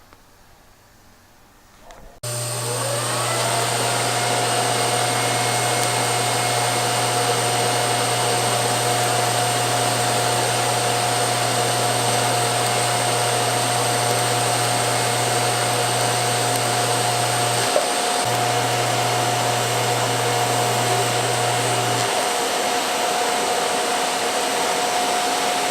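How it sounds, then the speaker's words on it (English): Steel LS turbo manifold being welded at 125 amps: a steady, loud electrical buzz and hiss run for a long stretch, break briefly, then resume before stopping. "There, both sides welded."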